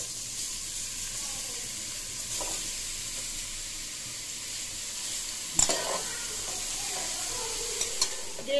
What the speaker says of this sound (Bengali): গ্রেট করে রাখা গাজরগুলোকে দিয়ে বেশ ভালোভাবে ঘিয়ের সাথে নেড়ে চেড়ে ভেজে নিতে হবে কিছুক্ষণ